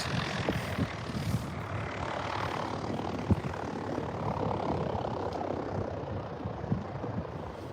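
A fixed-wing aircraft passes overhead at a plane spotting location, its engine noise a broad, steady roar that swells and lingers throughout, with faint wind and background rumble.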